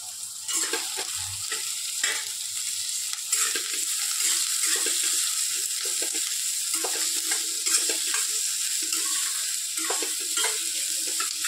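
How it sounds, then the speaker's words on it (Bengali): Onions fry and sizzle in a pan while a utensil stirs them with repeated scraping strokes, a steady close hiss running throughout with no talking. "পেঁয়াজটা যতক্ষণ না ভাজা ভাজা হচ্ছে ততক্ষণ আমি এটাকে নাড়বো ভালো করে।"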